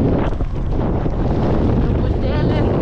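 Strong wind buffets the microphone outdoors on an Icelandic coast, a constant heavy low rumble with gusty roar and faint surf underneath, loud throughout.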